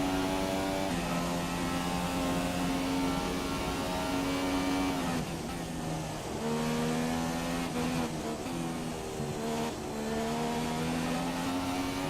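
A McLaren Formula 1 car engine in the game F1 2017 screams at high revs at Japan, its pitch dropping and climbing repeatedly with gear changes, steady and loud throughout with no talking.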